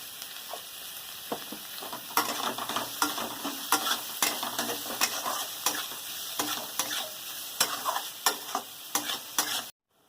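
Onions fry in a pan with a little salt, a steady hiss of sizzling broken by frequent sharp scrapes and clacks of a spoon stirring, close and continuous for about ten seconds before cutting off.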